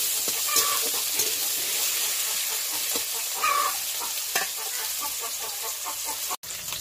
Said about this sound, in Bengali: এবার দেবো পেঁয়াজ দিয়ে আমি একটু নেড়ে করে নেবো।